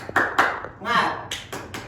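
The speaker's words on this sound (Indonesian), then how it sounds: "Bapak contohkan dulu ya terlebih dahulu untuk tepuk semangat" A sixth-grade class claps out a short rhythmic pattern of sharp, close hand claps in quick bursts, broken by a chanted group shout between them.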